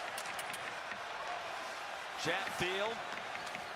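Arena crowd noise at a Rangers versus Carolina Hurricanes NHL playoff hockey game, a steady broad roar with a brief swell of louder cheering near the end, while a commentator speaks over it.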